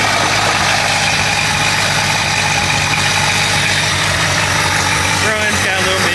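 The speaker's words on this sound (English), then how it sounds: "So I'll prove that the motor runs." An engine fitted with a revived, cheaply made distributor runs loud and close, a dense, steady mechanical roar that is said to carry a slight miss, holding constant throughout.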